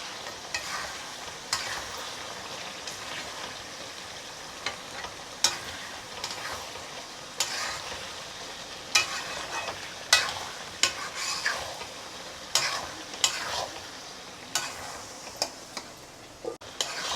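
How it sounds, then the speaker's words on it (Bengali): A spoon scrapes through sizzling goat meat in a pan, with regular stirring strokes that grow sharper and more frequent over a soft frying hiss. "আমি এখন একটু আরও নেড়ে নেব।"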